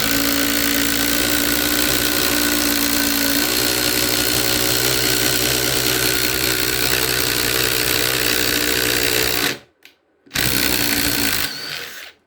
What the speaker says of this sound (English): let's try the 5/8 spider bit with the Ryobi